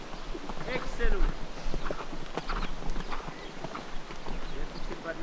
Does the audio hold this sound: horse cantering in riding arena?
yes